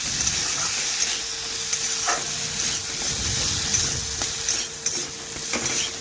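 Potato and carrot pieces fry in a pan with turmeric and red chilli powder, a steady close sizzle broken by occasional scrapes and clinks of a spatula stirring, with no talking.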